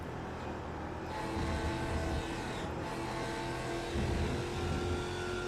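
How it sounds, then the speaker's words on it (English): Porsche Cup production race car in a sim racing broadcast, its engine a steady loud drone with slight rises in pitch as it accelerates, with no voices over it. "Just listen to that engine."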